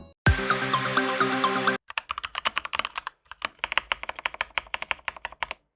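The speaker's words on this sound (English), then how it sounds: "I was absolutely blown away by how thocky and smooth these keys felt at such a low price point." Typing on a budget mechanical keyboard with thocky keys: a close, dense run of clacks after an opening sustained tone, keystrokes coming in quick irregular bursts with short pauses.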